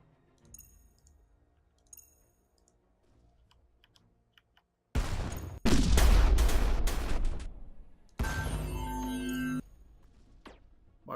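Beam weapons fire during a space battle in the strategy game Stardrive 2. After a quiet stretch with faint clicks, two loud bursts break out, a dense sustained blast followed by a second crackling, buzzing volley.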